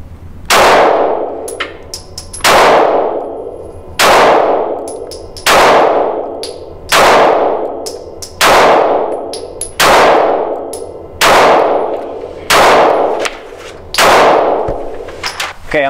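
Taurus GX4 pistol fired in nine sharp, loud shots at a steady pace of roughly one every one and a half seconds, each crack ringing out and decaying before the next, with no talking.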